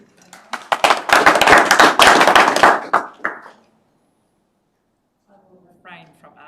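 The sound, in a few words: clapping in the council meeting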